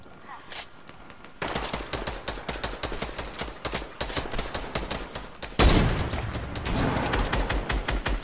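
Gunfire in a first-person shooter video game, with rapid bursts of shots and a sharp loud blast partway through, followed by more steady firing.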